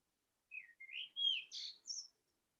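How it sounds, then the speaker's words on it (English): Small birds chirp in a quick run of five bright, high tweets, clear and fairly faint against silence. "I love the little birds."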